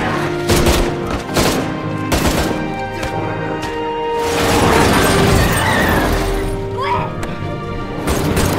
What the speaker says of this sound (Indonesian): Dan akhirnya Chul Min terkena tembakan dari Sersan Huang.